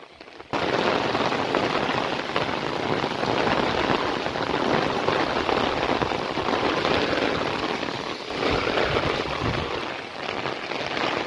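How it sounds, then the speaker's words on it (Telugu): Heavy rain pours steadily and loudly as a dense, unbroken hiss that lasts the whole time. "భారీ వర్షం."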